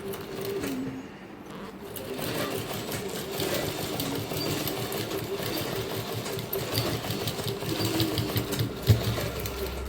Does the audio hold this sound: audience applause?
no